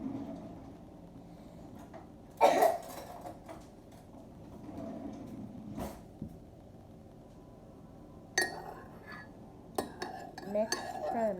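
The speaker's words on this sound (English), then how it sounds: "Mix firmly until you don't see those little tiny sugar chunks." A spoon stirring organic sugar in a bowl, giving scattered light clinks and scrapes, with a few louder knocks spaced irregularly and quiet speech in between.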